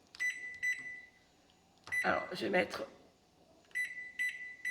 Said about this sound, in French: je vais bien régler mon micro-ondes.